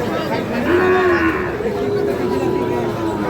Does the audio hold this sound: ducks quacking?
no